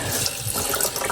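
Water gushes steadily from a newly rebuilt household water system, a loud continuous rushing flow with a faint mechanical rattle underneath, no talking.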